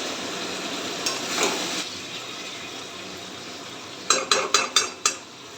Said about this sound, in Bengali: মাংসটাকে ভালো করে কষাচ্ছি।